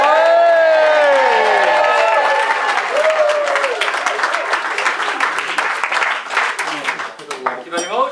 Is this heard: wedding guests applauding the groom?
yes